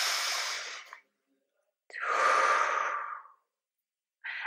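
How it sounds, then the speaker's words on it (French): Slow, deep breaths drawn in and let out in a guided conscious-breathing exercise: one long airy exhale, a pause of silence, a long full inhale and exhale, then the start of another breath, close and clear with no talking. "on peut inspirer et expirer"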